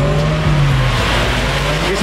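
Dodge Scat Pack muscle car spinning its tires at a drag race launch, a loud continuous engine roar with tire squeal held steadily close up for about two seconds.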